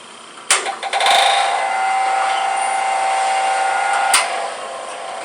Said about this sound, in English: The switch on the right will turn on the honing disc.